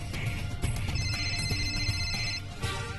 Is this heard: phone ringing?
yes